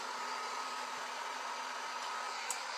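A hair dryer blows a steady, quiet stream of air over a snowman craft sign, a constant hiss with a faint whirring tone that holds evenly for the whole stretch, with no voices.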